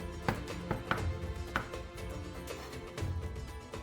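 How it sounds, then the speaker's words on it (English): An onion being grated into a bowl at home, giving soft, irregular scraping strokes with a few sharper taps, fairly quiet and close with no talking. "First of all, I grate an onion into a bowl."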